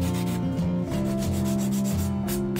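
A nail file rasps back and forth across fingernails as they are shaped into an almond form at a salon, close and loud, in steady rhythmic strokes with no talking.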